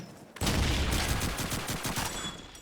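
Rapid automatic MP44 assault rifle fire in Call of Duty 2 on a village churchyard map, a loud sustained burst of close shots running nearly continuously with slight rhythmic pulsing and no talk.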